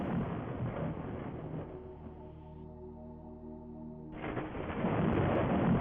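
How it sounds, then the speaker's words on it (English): Thunder in a video game rolls as a loud, broad rumble, eases into a quieter stretch with steady tones beneath, then swells back to a heavy roar near the end. "More thunder."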